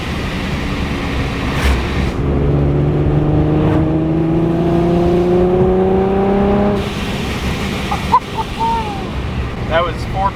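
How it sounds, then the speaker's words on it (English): A supercharged Infiniti G37x sedan revs up strongly with a deep, rising exhaust note over several seconds, then cuts off into rumbling and brief excited voices. "The exhaust sounds deeper as well."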